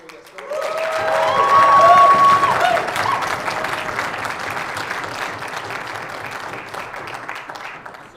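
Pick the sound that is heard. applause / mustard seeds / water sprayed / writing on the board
applause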